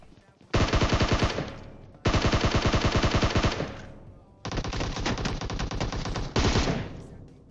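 Enemy gunfire in the PUBG Mobile battle-royale game: loud, close automatic bursts, several long rapid volleys separated by brief pauses, with no talking over them.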